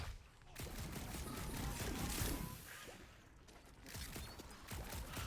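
Rapid video-game gunfire rattles in dense bursts, a sustained fusillade of shots that swells, dips briefly and resumes, with a busy, noisy game mix behind it.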